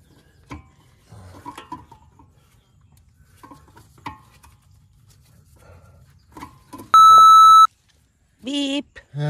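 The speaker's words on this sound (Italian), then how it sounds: "Beep." A phone gives one loud, steady electronic beep, followed by a shorter warbling tone, amid a quiet room with scattered handling noises and soft voices.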